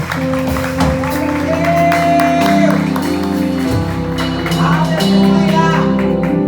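A church congregation claps together during a worship service, a dense steady wash of applause under loud amplified music and a preacher's voice.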